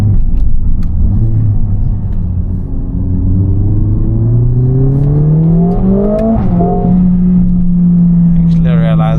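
A Mercedes-AMG A45 S hatchback with a 421 hp engine pulls hard from inside the cabin, its loud steady drone climbing in pitch through the gears with a brief shift dip, close and continuous.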